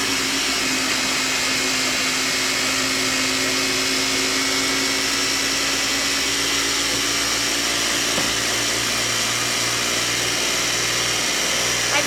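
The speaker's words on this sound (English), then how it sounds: "I'm going to grind that up here." Blender grinding oats into oat flour for banana chocolate chip muffins, a loud steady whirring roar that runs unbroken for about twelve seconds with no talk.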